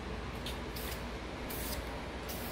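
A spray gun lays a coat of wrinkle paint onto a part in a steady, loud, hissing stream, with brief pulses where the trigger passes vary, close and continuous.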